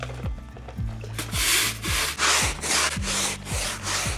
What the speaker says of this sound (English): Dunk the brush into the Suds, then scrub.